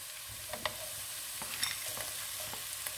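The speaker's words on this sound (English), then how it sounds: "The frozen peas goes in." Frozen peas tumble into a pan of sizzling pilau, with a steady frying hiss and a few sharp clinks and scrapes of stirring scattered through.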